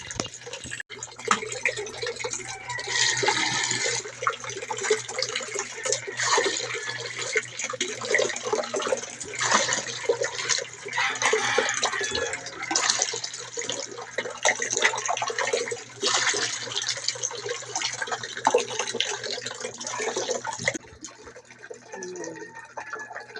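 Tap water runs steadily into containers early in the morning, a continuous broadband rush of flowing, splashing water lasting throughout, with a low steady hum underneath and occasional clatter.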